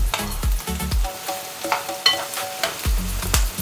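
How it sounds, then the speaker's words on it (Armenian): Chopped onion and carrot fry in a pan, stirred in short bursts of scraping and clatter over a soft sizzle. A few bright metallic clinks from the utensil sound close and fairly loud, with no talk. "Ես սիրում եմ, որ գազարը հետը տապակվում է"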